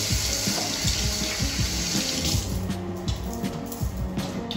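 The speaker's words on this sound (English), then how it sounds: "I'm just gonna wash my hands quickly" Running tap water pours steadily while hands are washed under it at a sink, a close, continuous splashing rush with shifting tones as the hands move through the stream.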